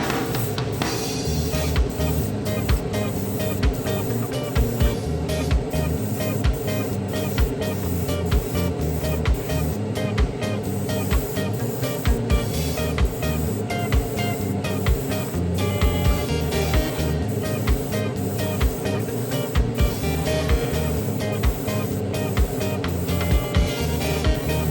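Fusion Firm Chrome spray paint hissing steadily from an aerosol can onto wheel covers, a continuous close, loud spray with brief pauses and rattling pulses throughout.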